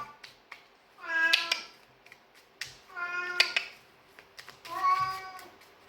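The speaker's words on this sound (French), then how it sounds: "il miaule comme ça, mais en plus bizarre" A cat meows three times in drawn-out, wavering cries spaced about two seconds apart, close and clear, with small clicks and soft rustles in the quiet between calls.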